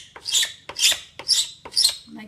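A hand file rasps across a piece of acrylic clamped in a vise, four rhythmic close strokes with short pauses between them, bright and scratchy.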